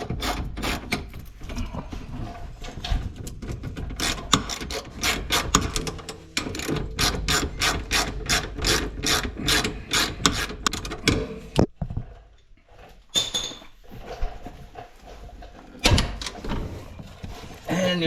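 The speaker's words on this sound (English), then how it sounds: "And now you remove both shocks from the front." A ratchet wrench removes the front shock bolts on a Polaris Ranger 150 during a lift kit install, giving quick runs of close, crisp clicking strokes that pause briefly and then resume.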